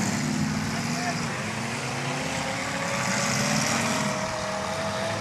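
At a demolition derby in Arlington, Nebraska, a car engine idles and drones steadily, a low rumbling hum under an announcer's amplified voice.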